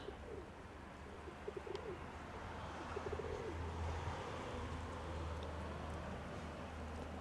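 Pigeons cooing in soft repeated phrases over a steady low hum and background noise, fairly distant and quiet, with no talking.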